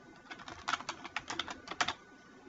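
Quick clusters of keystrokes on a computer keyboard, light and close, tapping in short irregular bursts during data entry in a database program.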